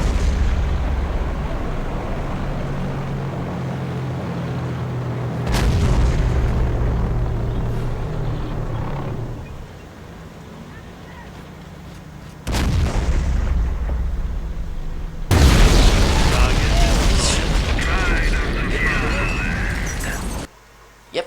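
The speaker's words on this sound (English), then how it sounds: "V1 rocket is en route to target." Explosions and heavy artillery-style blasts from a V1 rocket strike in the Company of Heroes strategy game, loud low booms in separate bursts with a dense roaring barrage near the end, amid game noise and occasional talk.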